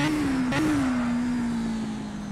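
A historic Formula 3 race car engine in a sim racing game at Oulton Park holds a steady, loud drone that dips slightly as the car coasts through a corner, with no talking.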